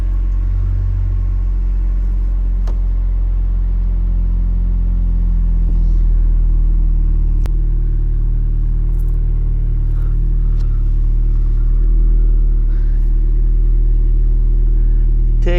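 A lowered Ford Ranger pickup truck drives along with a deep, steady engine rumble close by, occasional rises in revs and a few sharp clicks and knocks, with no talking.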